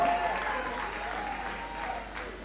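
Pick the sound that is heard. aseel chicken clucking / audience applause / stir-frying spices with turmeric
audience applause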